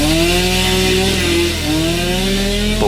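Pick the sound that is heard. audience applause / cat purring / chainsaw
chainsaw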